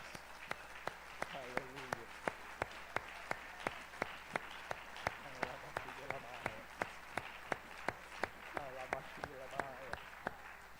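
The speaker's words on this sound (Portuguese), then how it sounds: "Louvemos ao Senhor com nossas palmas." A church congregation in Brasília claps hands in a steady, rhythmic beat of sharp, evenly spaced claps throughout, with voices singing or calling out beneath it.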